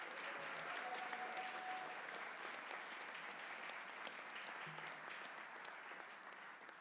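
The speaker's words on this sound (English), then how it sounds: "Let's give them a round of applause." Sustained applause from a large crowd at a university honors convocation, steady and dense clapping throughout with no voices standing out, tapering only slightly at the end.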